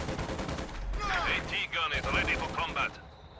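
MG42 machine gun firing in a World War II strategy video game match. A short run of rapid bursts sounds over a background of battle noise.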